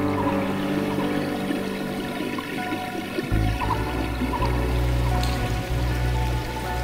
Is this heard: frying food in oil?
no